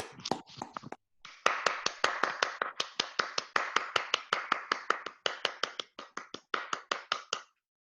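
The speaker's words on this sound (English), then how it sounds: "Let's all give Dan one final round of applause." A small audience at a prepared speech contest gives a round of applause: crisp, distinct hand claps in a fairly steady rhythm, close and moderately loud, with a brief pause near the start and no talking.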